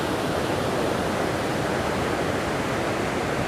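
Water tumbles down a hillside near the forest temple at Penna Ahobilam, a continuous loud rushing roar without breaks or voices.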